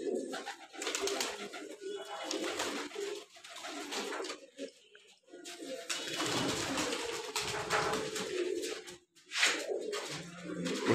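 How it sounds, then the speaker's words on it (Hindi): Many paired domestic pigeons, some with young chicks, coo together at a home loft, overlapping throaty burbling calls close by that rise and fall throughout, with occasional fluttery bursts and no speech. "कबूतर बहुत ज़्यादा हैं अपने पास"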